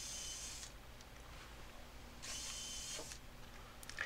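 Power drill boring through pilot holes in wooden beehive top and bottom panels, two separate bursts of drilling with a pause between, fairly close and steady.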